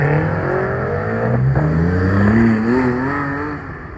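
A BMW M6 accelerating nearby on the street, its engine note climbing in pitch with harmonics rising steadily over a few seconds, loud and continuous with no talk over it.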